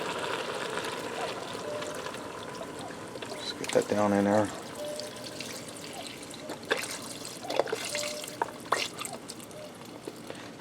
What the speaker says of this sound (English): And I'm going to add in 4 cups of chicken broth.